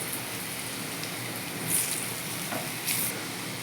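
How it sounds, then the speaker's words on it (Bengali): Split pea lentil fritters fry in hot oil, giving a soft, even sizzle at moderate distance with a couple of brief crackling flare-ups as they cook. "পাল্টে ভালো করে ভেজে নিতে হবে বড়াগুলোকে"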